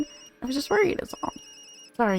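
Phone ringing in the video game Tokyo Dark: a sharp electronic ring bursts in at the end, loud and close, right after a stretch of spoken dialogue.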